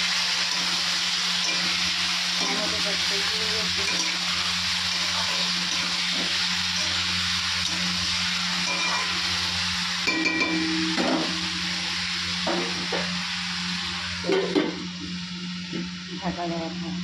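Chicken sautéing in a kadai with bay leaves gives a steady sizzling hiss under a constant low hum, with scraping stirring clatters and brief spoon knocks toward the end, and a voice talking intermittently.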